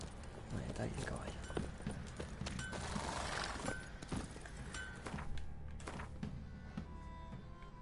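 Horse hooves clip-clop in The Witcher III, a steady rhythmic trotting beat heard under ongoing game sounds and background noise.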